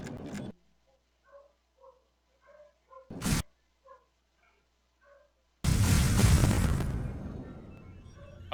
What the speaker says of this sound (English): Go ahead and drop some bombs.